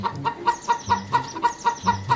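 A hen clucks in a steady, regular rhythm, about nine short clucks, fairly close and clear with no talking.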